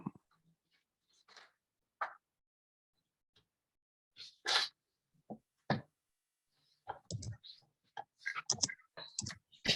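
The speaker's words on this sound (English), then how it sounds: "Everyone typing." Several people tapping away on computer keyboards during a tabletop role-playing session, heard as sparse, irregular clicks and taps scattered across the stretch with quiet gaps between bursts and no talking.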